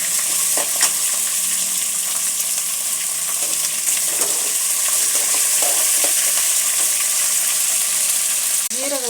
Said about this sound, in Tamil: நல்லா வதக்கிக்கலாம் ஃப்ரெண்ட்ஸ். பிரண்டை க்ளீன் பண்ணி வச்சுருக்கோம்ல